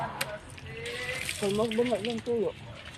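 Tap water running into a sink or container, a steady gushing wash under several stretches of nearby speech.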